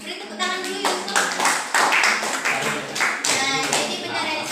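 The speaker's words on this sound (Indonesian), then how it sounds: "Beri tepuk tangan dulu Yusuf." A class of students applauds a classmate named Yusuf with bursts of hand clapping, close and lively, mixed with voices talking and calling out over the claps.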